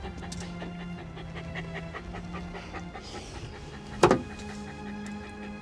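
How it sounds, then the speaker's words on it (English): A puppy pants with a quick steady rhythm, soft and close, over a low hum of ambient background noise, broken briefly by a sharp knock near the end. "She's still a puppy, isn't she?"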